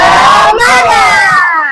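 A classroom of children shouting a short, loud rhythmic cheer together as an icebreaker led by their teacher, voices close and massed for under two seconds, with no distinct clapping standing out.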